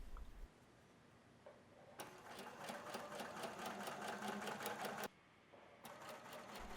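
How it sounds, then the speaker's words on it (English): A sewing machine runs a twin needle through Lycra swimwear on either side of the basting, giving a fast, steady mechanical stitching rattle in two bursts with a short pause between them, quiet and close, with no talk. "We are going to stitch either side of the basting using the twin needle."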